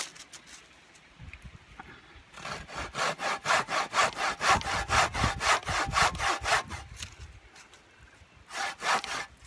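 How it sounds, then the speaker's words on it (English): A hand saw cuts through a small piece of wood in steady rhythmic back-and-forth strokes, close and clear, with a short pause before the sawing starts and a couple of final strokes at the end. "So now I'll cut another piece off. I'll cut about 1/3 of an inch in and slice another piece."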